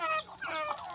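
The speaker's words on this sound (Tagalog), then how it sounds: "Mga manok dito guys." Several backyard chickens cluck in quick close bursts, a busy overlapping chatter of hens lasting about a second, no voices.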